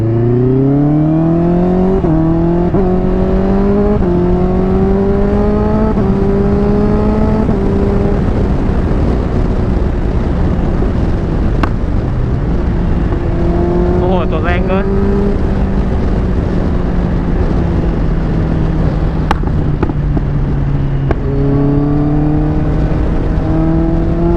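A Honda CBR650R fitted with drop handlebars accelerates along a straight road, its loud engine climbing in pitch through several gear changes with a continuous roar and wind rush throughout.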